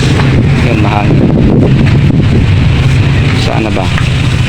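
Steady rumbling wind buffets the microphone throughout, loud and continuous, with a voice faintly underneath.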